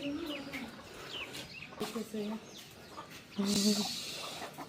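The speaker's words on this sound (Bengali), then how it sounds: "মুরগির ছোট ছোট বাচ্চা দেখতে ভালোই লাগে না" Chickens cluck and chicks peep in short, scattered bursts close by, with people talking quietly in the background.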